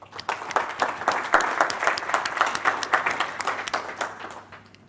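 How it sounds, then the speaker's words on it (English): A modest conference audience at a BlackBerry Jam Europe developer session claps after a talk, the individual hand claps audible as a fairly sparse, uneven patter that gradually thins out. "So we can give them a big round of applause"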